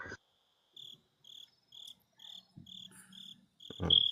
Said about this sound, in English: y'all even hearing the crickets?